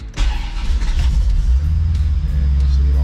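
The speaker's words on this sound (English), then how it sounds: "I'll start the car up again to show you what I mean by populating" A car engine turns over and settles into a steady low idle rumble with a little mechanical clatter, close and fairly loud, with no talking over it.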